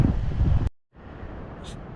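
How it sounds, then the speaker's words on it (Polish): Heavy, blustery wind buffets the microphone outdoors at a beach, cut by a brief silent gap before the rushing roar resumes more softly. "Więc idziemy na plażę, ale tam wieje mocno."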